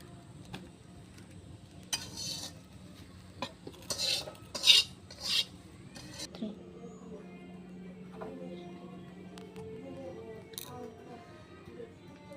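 A spoon works through prawn malai curry in a pan in a run of scrapes and clinks, loudest early on, then a quieter stretch with a low steady hum beneath.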